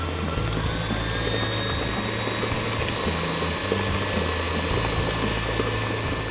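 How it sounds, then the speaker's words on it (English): A KitchenAid stand mixer with the paddle attachment running at full speed, a loud steady motor drone with a low rhythmic churning thump from the beater, continuous and without talk. "Now we'll be using the paddle attachment of your KitchenAid. Start slow, but we're going full speed ahead for 8 minutes."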